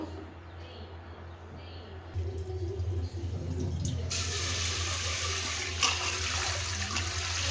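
Water runs from a tap into a vessel as roasted moong dal is rinsed, a steady splashing gush that swells louder partway through, with no talking.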